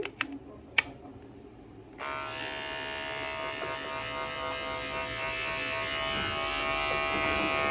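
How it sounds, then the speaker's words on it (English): Electric pet grooming clippers switch on after a few faint clicks and handling taps, then buzz with a steady, loud, close whine that holds unbroken to the end; no one speaks. "Clean out my clippers."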